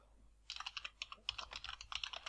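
Quick, crisp keypresses on a computer keyboard come in an irregular run of clicks, close and fairly quiet, while text is typed into a Word document.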